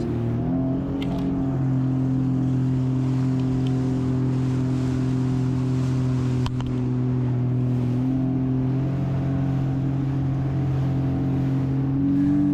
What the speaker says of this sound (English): it took a bit of time to get the ski planing again